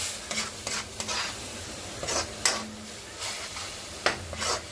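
Tomato puree fried with masala for prawn masala, made with two tomatoes: a steady sizzle with scrapes and stirring strokes from a spatula in the pan, close and fairly quiet, with no voices.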